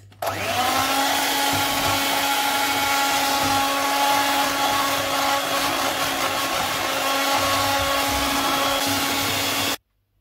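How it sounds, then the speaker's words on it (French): An electric mixer whirs steadily at close range while beating chocolate chip cookie dough, a constant motor drone with a faint rhythmic wobble that stops abruptly at the end. "Et je mélange toujours ce batteur."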